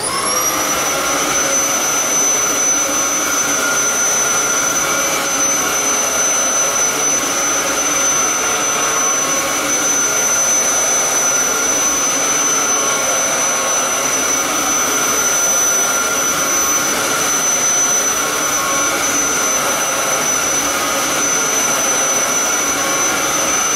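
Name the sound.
Dyson vacuum cleaner with new HEPA filter running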